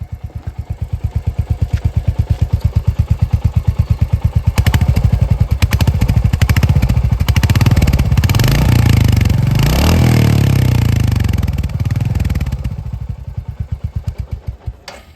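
Royal Enfield Hunter 350 in Rebel Red, exhaust thumping at idle, then revved up in a swelling burst before settling back to a steady close, loud idle pulse with no talk.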